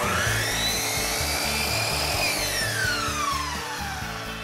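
A power miter saw cuts bullnose molding at a 45-degree angle, its motor whining loudly and steadily for several seconds with a falling pitch as the blade works through the trim.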